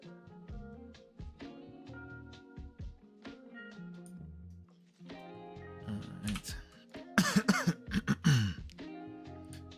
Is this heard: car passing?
no